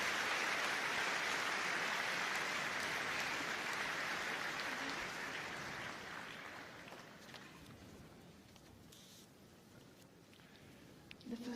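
Sustained crowd applause at the Crufts 2022 dog show main ring during Gundog Group judging, loud and dense at first, then gradually thinning and fading over the final seconds, with a brief burst near the end.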